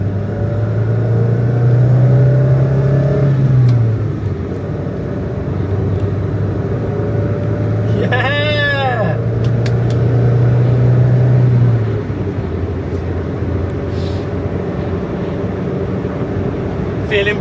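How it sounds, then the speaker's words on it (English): A classic Renault R16 engine idles steadily and then revs up twice, each time swelling into a loud, sustained rise before dropping back to a low idle. "Let's give her a proper rev."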